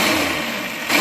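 Small single-stage Toro CCR 3650 R-Tek snow blower engine running steadily close by, a buzzy, even idle that rises slightly toward the end.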